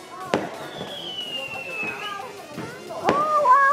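Fireworks and firecrackers going off during Tet celebrations in Vietnam, a few sharp bangs and whistling rising shots at moderate distance, with excited voices talking and exclaiming over them.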